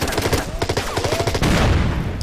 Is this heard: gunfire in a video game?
yes